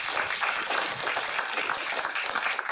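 Studio audience applause on a Czech talk show, dense steady clapping filling the whole stretch at moderate loudness, with no clear talk over it.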